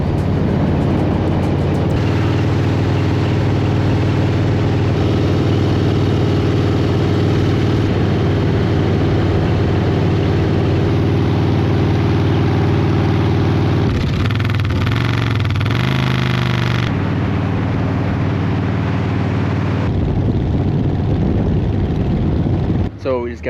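A motorcycle carrying a rider and passenger cruises along the road, the engine humming loud and constant under heavy wind rush, with a brief shift in tone partway through.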